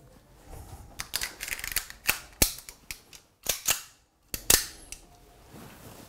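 9mm cartridges being pressed into two eight-round magazines for a police pistol, giving a series of sharp metallic clicks and snaps at irregular intervals, close and fairly loud.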